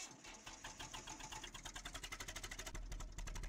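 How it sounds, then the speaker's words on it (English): A small vintage tractor engine runs in Farming Simulator 19 on the Meadow Valley map, a rapid, regular chugging beat at a steady idle that grows slightly louder and rougher toward the end. "Now, I like this little tractor. I do, I think it's great. Listen to this engine."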